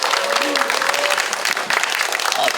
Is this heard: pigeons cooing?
no